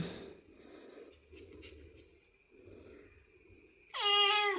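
After a few seconds of soft rustling and shuffling, a kitten lets out one loud, clear, high-pitched meow close by near the end.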